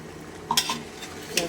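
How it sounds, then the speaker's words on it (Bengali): Beef rezala curry with potatoes being stirred in a pot: two quick spoon scrapes against the bottom over a faint bubbling sizzle. "এটাকে ভালো করে নাড়িয়ে নিচ্ছি"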